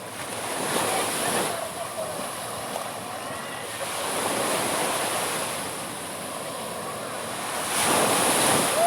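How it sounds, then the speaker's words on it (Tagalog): Heavy rough-sea surf crashing and rolling in repeated surges, with strong wind buffeting the microphone. "galit na galit yung dagat ah"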